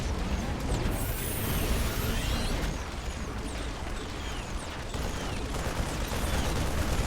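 Dense rapid gunfire from Marines in a StarCraft-style strategy game, with overlapping rattling shots and impacts forming a continuous busy barrage throughout.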